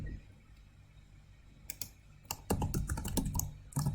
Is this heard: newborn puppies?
no